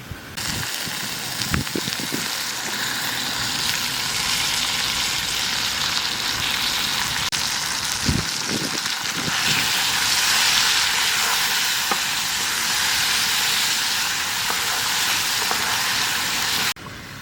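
Mustard oil sizzling and hissing steadily in a hot pan while cooking potol chingri (pointed gourd with prawns), a continuous close frying noise with a few clinks at the start and around the middle.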